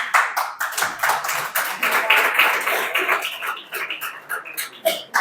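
Indoor audience at a college guest lecture clapping together, a brisk, fairly close round of applause with uneven hand claps lasting several seconds.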